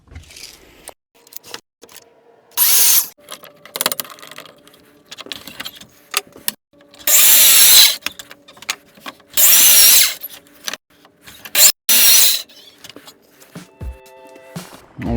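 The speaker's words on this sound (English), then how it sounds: "we're going to go ahead and cut our book holders that go up the backer" A power saw cuts wooden book holder pieces to length in a woodshop, four or five loud bursts of whining cutting, each a second or two long, separated by quieter handling knocks and clicks.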